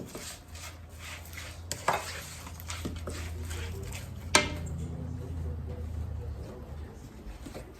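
Yogurt being stirred into a biryani marinade in a bowl, with soft wet mixing and a few sharp utensil clinks against the dish, over steady low kitchen background hum.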